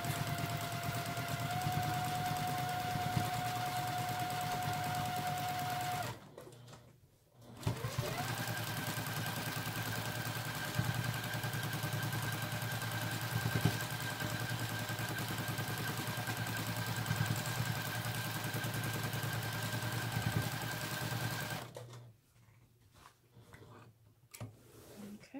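A home sewing machine runs steadily through free-motion quilting on a churn dash block, a close, continuous mechanical whir that stops briefly partway through, resumes at a slightly different pitch, then cuts out near the end.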